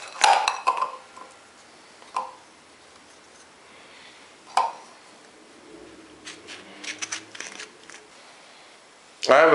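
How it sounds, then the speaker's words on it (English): A kitchen knife cuts lemons in half on a board, producing a few short, crisp, separate cutting sounds spaced a couple of seconds apart, close and fairly quiet, with near silence in between. "So just quickly slice them in half."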